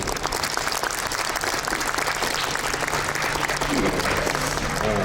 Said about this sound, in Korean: 감사의 큰 박수 부탁드리겠습니다